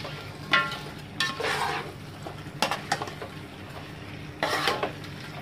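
Chicken being mixed into gravy in a pot for Indian chicken biryani: a utensil scrapes and clanks against the pot in several separate stirring strokes, with a soft wet sizzle beneath, close and moderately loud.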